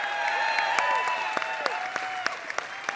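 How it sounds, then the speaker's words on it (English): Steady audience applause at an esports tournament for two StarCraft players, dense clapping from a crowd throughout, with a few sharper nearby claps standing out. "can we give these 2 gamers a round of applause one more time?"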